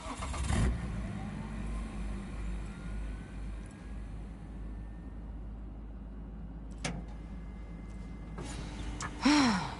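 A car drives in the video game Cyberpunk 2077, a low steady engine hum with a sharp door-like clunk near the start and later mechanical whooshes, faint breaths and sighs over it.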